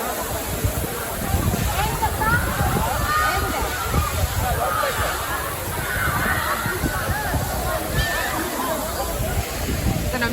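Agaaya Gangai waterfall pounds and splashes as spray sweeps over visitors, a loud, continuous rushing wash with wind buffeting the microphone and people talking over it.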